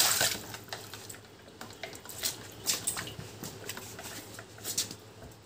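Water splashing as a face is washed during a bath, a series of soft, close splashes and drips at irregular intervals, with no talking.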